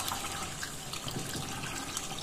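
Water pouring into a cup for a borax slime mix, a continuous splashing, trickling stream heard up close and fairly loud, with no talk over it.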